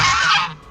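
A goose honks loudly and close by, one harsh sustained honk that fades out at the end.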